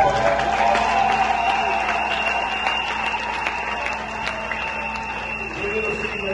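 A church congregation applauds steadily at a bishop's installation ceremony, a dense continuous clapping with some crowd noise, fairly loud and sustained, with a voice over it.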